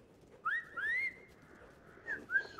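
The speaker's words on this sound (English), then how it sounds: "Wolf whistling at it." Someone gives a wolf whistle at a dog in the game Brothers: A Tale of Two Sons. Two rising-falling whistles sound clearly, followed by two fainter ones, with nothing else behind them.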